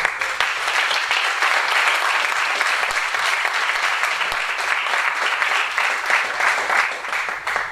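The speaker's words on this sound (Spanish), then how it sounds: "Un aplauso para ti." An audience at a climate change lecture series bursts into sustained, dense applause that holds steady and loud for several seconds with no talk over it.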